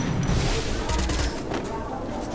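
Rapid gunfire from a shooting video game crackles loudly and continuously, with dense bursts layered under game noise and some background voice activity.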